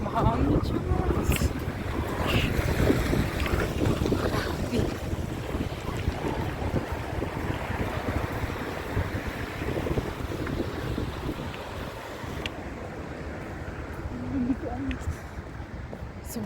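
Strong, cold wind in Russia roars steadily across the microphone, a constant rushing buffet with a voice speaking faintly beneath it.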